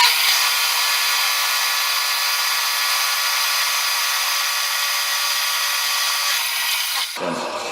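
A milling cutter grinds a groove into an aluminum heat sink with a steady, harsh, high-pitched whine, loud and close, before it abruptly stops near the end.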